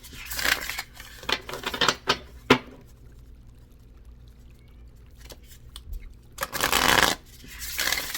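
Tarot cards are shuffled by hand in quick bursts of crisp riffling and flicking, with a quiet pause in the middle before another run of shuffling.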